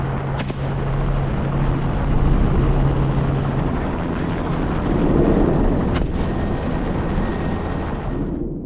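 Helicopter used for hunting wild boar droning steadily throughout, a loud, continuous rotor and engine wash with wind buffeting and no voices.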